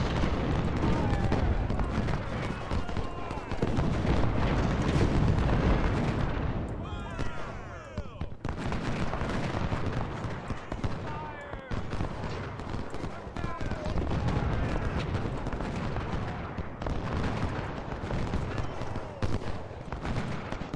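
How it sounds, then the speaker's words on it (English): Booming artillery and crackling musket volleys from a Civil War battle at Cold Harbor in Ultimate General: Civil War, dense and continuous with scattered blasts throughout, while someone talks over the din. "If we can focus fire on Ramsor here."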